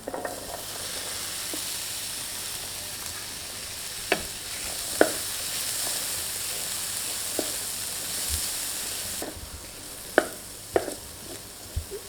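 Mixed vegetables sizzle steadily in a hot tawa for pulao, with a constant hiss broken by occasional clinks and scrapes of stirring.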